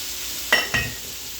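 Chicken sizzles steadily as it browns in a skillet, with two short scraping stirs close together near the middle, then the low frying hiss carries on alone.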